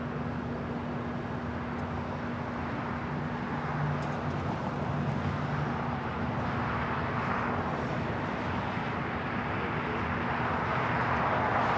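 A Polar heavy cargo jet takes off from runway 25 left at Los Angeles airport, a steady broad engine roar at a distance with a low constant hum beneath, no talk.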